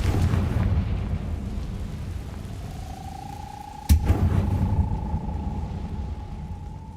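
A Confringo fire spell goes off in the PC game Hogwarts Legacy as one sharp, loud blast over a rumbling background, followed by a lingering steady tone.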